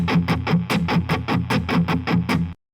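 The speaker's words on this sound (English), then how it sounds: "So this is the sound of 16th notes." Guitar plays rapid sixteenth notes, evenly picked in a steady rhythm of four notes per beat with clear rhythmic attacks, moderately loud and alone, ending sharply after about two and a half seconds.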